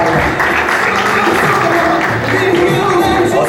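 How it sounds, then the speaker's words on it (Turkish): Festival audience applauds in a dense, steady wash of clapping and crowd noise at the Türkiye Güzelleşiyor Fest, with voices mixed in. "o yüzden de ben de sizi alkışlıyorum"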